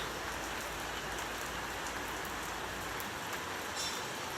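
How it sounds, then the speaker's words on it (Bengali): A heavy monsoon downpour after intense heat, dense and steady rain pounding surfaces nearby, continuous and loud with no voices. "এখন হচ্ছে মুসলধারে বৃষ্টি হচ্ছে"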